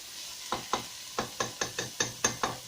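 Grated carrot halwa is stirred and roasted in ghee over a full flame, giving about nine evenly spaced scraping, sizzling strokes, close and moderately loud, with no talking.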